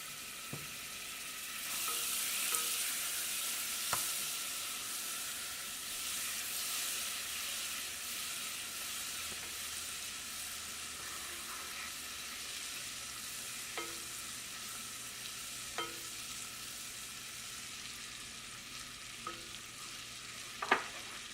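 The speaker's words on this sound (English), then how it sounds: "Now, in this saucepan over medium heat, we're going to melt our butter." Butter melts in a saucepan over medium heat for turkey gravy, a soft, steady sizzle held for a long stretch, with scattered faint ticks and light scraping. No speech.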